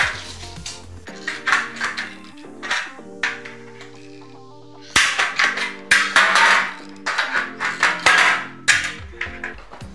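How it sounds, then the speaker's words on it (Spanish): A metal drywall stud is cut during a moisture-resistant plasterboard installation, giving sharp ringing metallic clanks and snips in irregular bursts, loud and close, with brief pauses between. "Así que vamos a cortar el último montante que va ahí."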